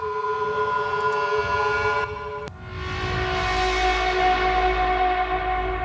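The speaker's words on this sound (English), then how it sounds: "I also like to use these like weird, eerie atmospheres." Sustained tonal synth layers drone eerily, cutting off briefly before a wider, hissier swell returns with a low rumble beneath, alone without voices.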